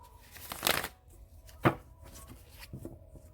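Tarot cards riffled in a quick shuffle, with a burst of rustling at the start and a sharp flick of the deck shortly after, then quiet handling noise, close and soft in a calm room.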